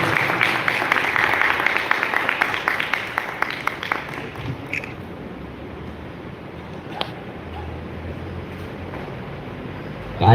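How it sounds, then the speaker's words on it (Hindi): Audience applause at a stage event as parents are welcomed, a clear burst of many hands clapping for the first few seconds that quickly fades into faint room noise. "जोरदार तालियां।"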